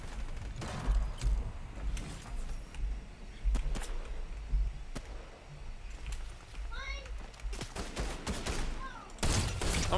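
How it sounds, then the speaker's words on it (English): Gunfire in the Fortnite video game, a flurry of distant and near shots with sharp cracks and scattered bursts, heard beneath a player talking over game sounds. "Someone's getting shot at."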